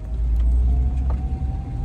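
A Toyota Supra at a drift competition rumbles nearby with a heavy, low engine drone that swells and eases slightly, steady and loud with no talk over it.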